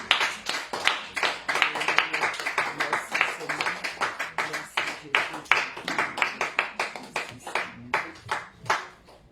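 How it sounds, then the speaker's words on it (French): A church congregation applauds together at a Redeemed Church service honouring the word of God, with a steady run of sharp, close hand claps rising and falling over about nine seconds, with no other sound. "Nous acclamons pour la parole de Dieu"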